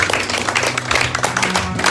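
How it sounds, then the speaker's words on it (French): Loud, dense applause from a church congregation, a steady wash of many hands clapping at once throughout, with a faint murmur of voices underneath. "Est-ce qu'on peut applaudir pour ça?"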